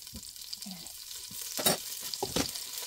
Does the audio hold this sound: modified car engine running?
no